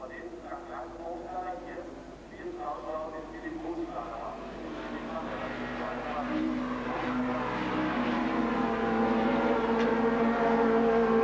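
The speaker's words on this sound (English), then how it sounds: "And locking up of brakes there for Bergstaller." Race car locking its brakes during a 1994 Super Tourenwagen touring-car race at the Österreichring, tyres squealing and skidding under loud engine roar, with commentary talking over it.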